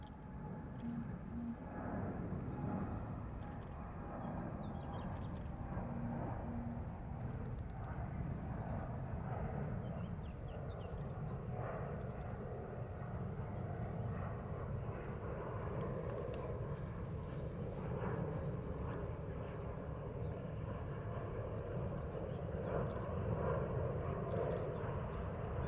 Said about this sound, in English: We're going around to the next aircraft departing, which is a Virgin.